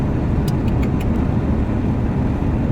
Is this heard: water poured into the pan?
no